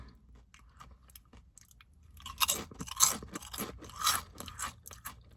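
French onion Sun Chips crunched and chewed up close, a quiet pause followed by a run of sharp, loud crunches in an irregular chewing rhythm, with no talking.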